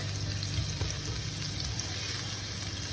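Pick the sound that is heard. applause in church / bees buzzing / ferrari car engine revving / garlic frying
garlic frying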